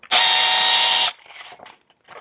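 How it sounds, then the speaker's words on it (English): Power drill with a 5/16 ebony plug chucked in it, spinning in one loud steady whine for about a second before stopping, followed by faint handling sounds, up close. "take the drill, and just start to turn the drill on and have it turn the ebony around"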